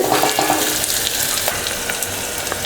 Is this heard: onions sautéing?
yes